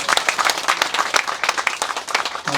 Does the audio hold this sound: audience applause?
yes